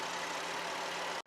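A 2015 Dodge Journey SXT's 3.6 liter V6 idles with a steady, even rumble close by, cutting off abruptly near the end.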